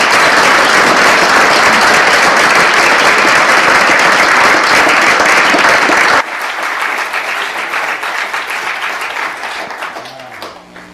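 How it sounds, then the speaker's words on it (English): An audience applauds after an astronomy talk on extreme weather in the universe, loud, dense clapping for about six seconds that drops sharply to a thinner, quieter patter and fades out. "let us give Hannah one more big round of applause"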